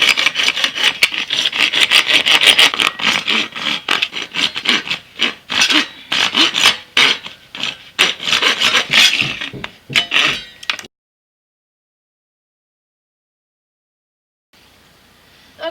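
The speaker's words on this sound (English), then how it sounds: "get your PVC saw, or just use a regular saw" Hand sawing through PVC pipe or plastic with a PVC saw, a close, steady rasping of rapid back-and-forth strokes for about eleven seconds, then silence.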